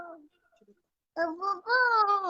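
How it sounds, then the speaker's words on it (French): A baby babbles in short, tuneful coos. A soft bit of sound is followed by a pause, then a longer sing-song run of babbling that is close and clear. "Ça fait du bien entendre les bébés, là."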